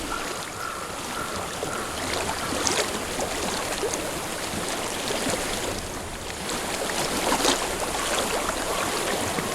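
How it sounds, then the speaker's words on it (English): Continuous rushing, splashing flow of water in a forest setting of the video game Hellblade: Senua's Sacrifice, steady and fairly loud with broad hiss and slight swells, no talk. "I hear water."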